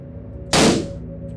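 A single sharp gunshot fires at close range in the indie horror police game Police Force, a loud broadband crack that decays over a fraction of a second against a low, steady ambient hum.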